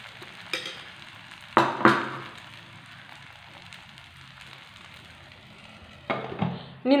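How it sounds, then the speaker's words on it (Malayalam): Wheat flour batter hisses faintly in an oiled pan, a low steady sizzle broken by a few louder clinks and scrapes of the ladle near the start and end. "ഇനി ഇതിലേക്ക് നമുക്ക് ആവശ്യത്തിനുള്ള മാവ് കോരി ഒഴിച്ചു കൊടുക്കാം"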